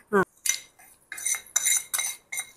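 A spoon stirs mango chutney in a pot, giving several bursts of scraping and clinking metal against the vessel, close and fairly loud, with brief pauses between strokes and no talk.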